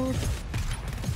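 A weapon reloads in the co-op shooter GTFO with a quick series of mechanical clicks and clacks close up. It lasts just over a second, with game noise around it.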